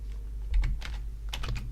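Quick, clattering keystrokes on a computer keyboard entering a compile command in a Linux Mint terminal, a short close burst of irregular taps with no talk.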